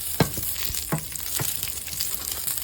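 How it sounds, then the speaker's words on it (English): Chopped garlic sizzles in hot olive oil in a pan, a steady crackling fry broken by a few sharp clacks of a utensil stirring, close and fairly loud with no voices. "I'm gonna go ahead and add my garlic"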